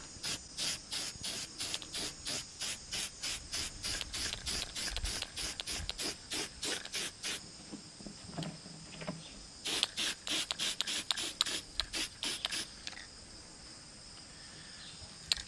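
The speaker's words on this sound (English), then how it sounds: "I don't want to spray the black up underneath the back of the details in the feathers" Aerosol can spraying black paint onto a Canada goose decoy during a repaint, heard as a series of short, close hissing bursts in quick rhythm, then a pause and another run of bursts.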